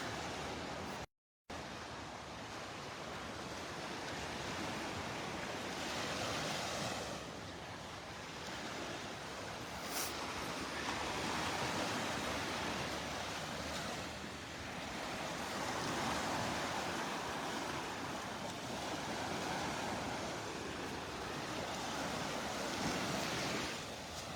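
Ocean waves washing onto the beach at Delnor-Wiggins on an outgoing tide, a steady broad roar of surf with gentle swells and some wind rumble on the microphone, continuous and fairly close, no voices.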